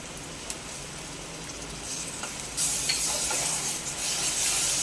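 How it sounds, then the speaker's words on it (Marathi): Ginger-garlic paste fries with softened onions in hot oil, a quiet sizzle that suddenly grows louder and brighter midway and stays strong to the end. "आला लसूण पेस्टचा पूर्ण कच्चेपणा जाईपर्यंत आपण कांद्यामध्ये याला फ्राय करणार आहोत"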